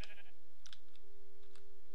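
A blocky Minecraft Pixelmon sheep gives a short wavering bleat, then quieter bleats follow among soft mouse and keyboard clicks.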